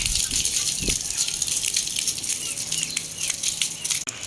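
Water splashes and gushes steadily as it is poured, a close, continuous rushing sound with a few brief spatters.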